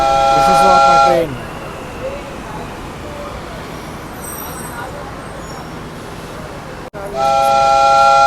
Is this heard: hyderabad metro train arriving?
yes